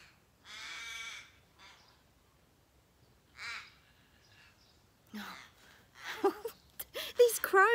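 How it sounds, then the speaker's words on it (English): Crows caw outdoors in a few separate harsh bursts, the first long and close, then a shorter one, followed by scattered calls mixed with a person's voice near the end. "Crows, they're messing with my guide rhythm."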